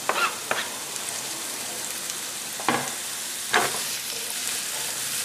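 Steady frying sizzle of zucchini in a pan with a few sharp clatters as it is stirred, close by with no talking.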